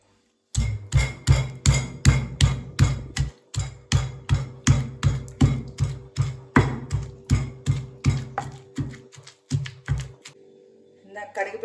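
Garlic with turmeric and a little water is pounded by hand for jujube chutney, with roughly thirty firm, evenly spaced thuds over ten seconds, close and loud, before the strokes stop.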